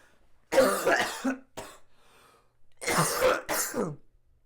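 Several rough coughs and throat clears in two clusters, close and fairly loud, separated by a short pause.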